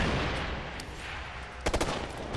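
Gunfire in the tactical shooter Ghost Recon Future Soldier: a low background rumble, then a short burst of several rapid shots near the end.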